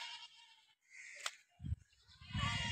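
A newborn buffalo calf calls on a farm with short, low bleats close by, between stretches of hissy background noise.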